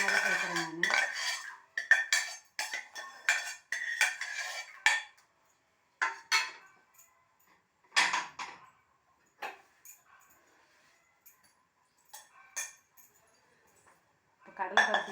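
Red rice halwa with soaked chana dal is stirred in a wide pan, with intermittent scraping and clinking of a utensil against metal in short bursts separated by quiet gaps.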